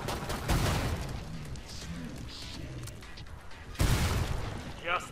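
Pistol fire in the zombie shooter Killing Floor 2, sharp cracks landing at a few points across a busy, noisy game mix with muffled impacts and movement in between.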